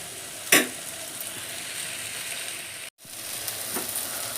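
Tomatoes and chili powder frying in a pan, a steady loud sizzle with a sharp spatter burst near the start and a brief cutoff before the sizzling resumes.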